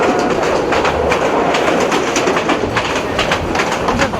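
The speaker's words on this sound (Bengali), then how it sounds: "প্রতিমধ্যে দেখতে পাচ্ছি লাইট জ্বালিয়ে অন্য আরেকটি" A passing train with its lights on, heard on a Chattogram route toward Chandpur: a loud, close rush of wheels and carriages with rapid clickety-clack beats running continuously.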